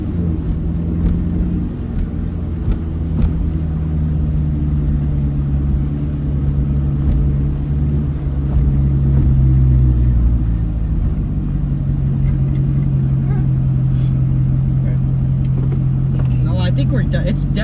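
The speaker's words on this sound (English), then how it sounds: "Let it idle here for a bit." A rebuilt Corvette engine idles steadily outdoors, a deep continuous low rumble that dips slightly in pitch partway through, with people talking nearby.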